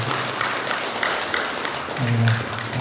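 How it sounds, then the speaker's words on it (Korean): Audience clapping welcoming newcomers at a Buddhist temple service, a scattered, moderate round of applause with a voice briefly speaking over it near the end. "박수 한번 주세요."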